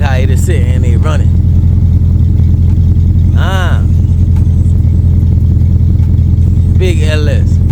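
A 4.8 liter LS V8 swapped into a G-body Cutlass idles loud and steady with a deep, constant rumble; a few short bursts of speech cut in over the engine.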